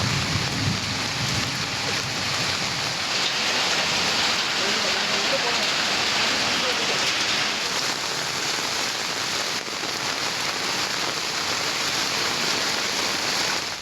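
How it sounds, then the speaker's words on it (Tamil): Heavy thunderstorm rain pours down in Ambasamudram, Tirunelveli district, Tamil Nadu, a dense, steady roar of falling water that stays loud and unbroken from start to finish. "நெல்லை மாவட்டம் அம்பாசமுத்திரம் மற்றும் சுற்றுவட்டார பகுதிகளில் இடியுடன் கனமழை பெய்தது"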